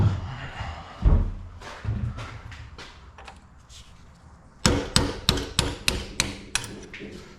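A hammer strikes a drift to drive out a pin on a car project, with a few scattered dull blows at first and then a quick series of sharp metallic hits close by.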